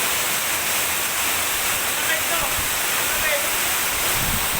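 Togonan Falls in Mainit, Surigao del Norte roars in a steady, dense wash of falling water, loud and close with no breaks across the whole stretch.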